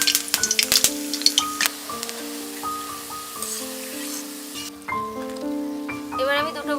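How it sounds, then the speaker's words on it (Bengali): Boondi, small pearls of gram flour batter, sizzle steadily as they fry in hot oil for sweet boondiya, with a few sharp clinks from a utensil early on and a faint voice speaking underneath. "এবার আমি লাল বোধেটা ভেজে নেবো"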